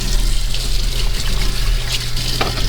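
Tap water runs steadily into a sink during handwashing in a home kitchen while cooking, a continuous close splashing trickle with no talk.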